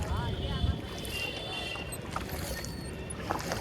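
A boat on the lake at Nainital gives a steady, broad hum of motor and water noise throughout, with faint background voices and a few brief mechanical clicks.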